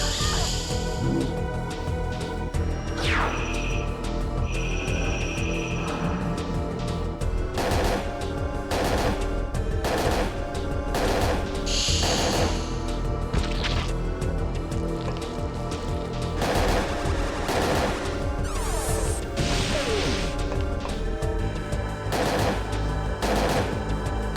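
Gunfire rings out repeatedly in the video game Parasite Eve II, with sharp loud shots in irregular bursts over a dense, continuous backdrop of game music and effects, with no voices.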